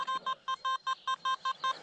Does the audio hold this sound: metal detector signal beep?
yes